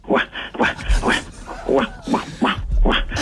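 A man imitates a dog with a string of yapping, barking vocal sounds in a radio studio, repeated rhythmically and close to the microphone with laughter-tinged voices around.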